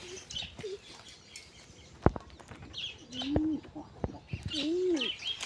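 A black pigeon cooing nearby, several soft rising-falling coos repeating through the stretch, with a few sharp knocks and faint chirps from other birds in the background.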